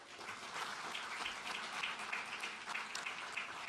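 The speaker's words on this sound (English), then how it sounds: "Big round of applause for Firefly." Audience at a NASA news conference breaks into applause, a dense, even wash of many hands clapping at moderate distance, sustained for several seconds without talk.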